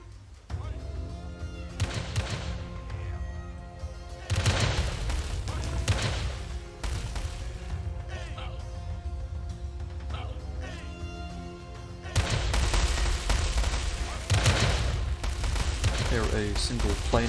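Bursts of booming cannon fire and explosions from a strategy video game, sea forts firing on light cannons, dense and repeated in clusters, over a steady game soundtrack.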